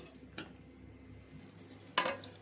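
A metal lid set onto a pot of simmering sambar gives a couple of sharp clanks, one early and a louder one near the end, over quiet background hiss.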